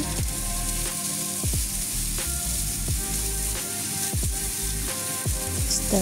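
Butter sizzles and crackles steadily in a hot pan with French beans, a close, continuous frying hiss broken by occasional louder pops and stirring scrapes.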